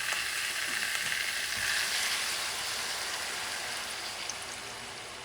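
Chicken legs with potatoes, corn and carrots hissing loudly in a pan just after water is poured in, a dense close sizzle that slowly eases over a few seconds.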